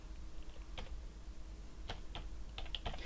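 Faint, sparse keystrokes on a computer keyboard, a few quick taps in small clusters over a low steady background hum.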